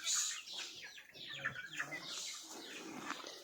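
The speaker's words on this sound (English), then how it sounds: "Right, the chickens are out." A flock of free-range chickens outside a hen house clucking and squawking close by, overlapping calls rising and falling continuously throughout.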